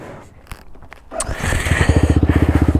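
A 125cc four-stroke motorcycle engine starts up and revs, quickly settling into a fast, rhythmic throbbing pulse that grows louder and stays close.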